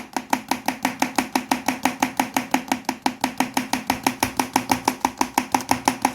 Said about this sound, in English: Give it a good whisk. Just beat it very well.